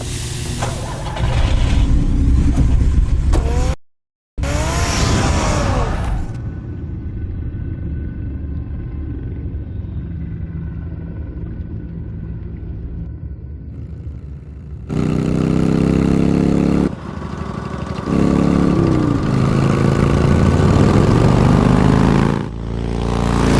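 A car engine in a Batman adventure game drones steadily as it drives, a close, mid-pitched rumble that briefly cuts out and later swells with a rougher, louder passage.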